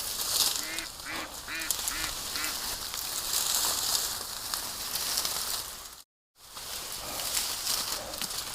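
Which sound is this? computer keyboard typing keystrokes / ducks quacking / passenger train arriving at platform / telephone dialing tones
ducks quacking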